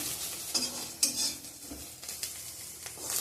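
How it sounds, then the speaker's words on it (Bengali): An egg omelette sizzles softly in a pan while a utensil scrapes and taps against it a few times, fairly quiet and close. "তো একটু ডিমের অমলেটও করে নিলাম"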